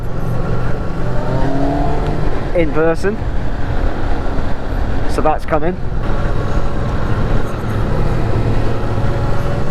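A Kawasaki ZX6R Ninja sport motorcycle engine drones steadily while riding, with rising revs around a couple of moments, while someone talks over it.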